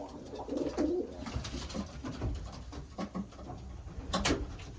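A racing pigeon bred in the Netherlands coos softly in low, repeated murmurs, with light patter and rustling around it and no talking.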